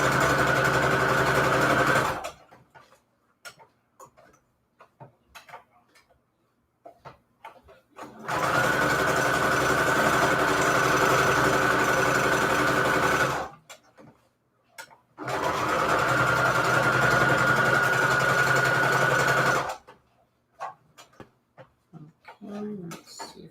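A sewing machine runs a straight stitch through paper scraps for holiday envelopes, three steady buzzing runs of several seconds each separated by quiet pauses with faint handling noises.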